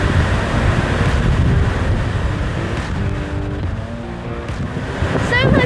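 Steady, dense roar of heavily falling water at Yosemite Falls fills the scene, broadband and constant, with a voice talking faintly underneath.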